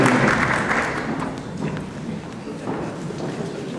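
Applause from an audience at a school award ceremony for fourth-grade students of a regional boarding primary school, steady, dense clapping that holds throughout and gradually eases slightly.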